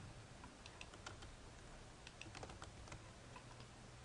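Fingers tap on a computer keyboard in faint, irregular clicks over a steady hiss, with no talking.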